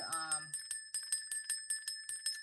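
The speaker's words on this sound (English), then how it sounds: "I'm going to ring my bell here." A small hand bell rung repeatedly in a quick, even rhythm of about a dozen bright metallic strikes, close and clear, with a short voiced sound at the very start.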